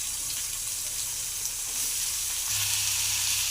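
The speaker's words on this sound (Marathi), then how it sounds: "मग छान असा आपला कांदा फ्राय झाला आहे" Chopped onion fries in a pan of hot oil for a dal tadka, giving an even, continuous sizzle that swells slightly toward the end, close up with no talking.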